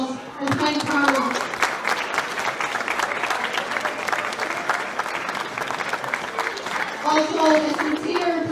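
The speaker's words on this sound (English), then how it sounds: "So could I ask everyone to give a huge round of applause and thank Carlow." Spectators at a camogie club championship final give a sustained round of applause, with steady clapping throughout and a voice on the public address heard over it at the start and end.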